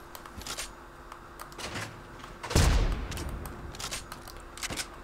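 Gunfire in the video game Fortnite, a loud sharp shot midway followed by a scattered burst of rapid shots and clattering effects over game ambience, with no talk.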